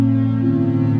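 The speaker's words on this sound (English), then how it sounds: "we're using the sound of a foghorn as our source" A foghorn sounds one sustained, loud, steady low blast with rich harmonics, holding unbroken from start to finish with no other sound.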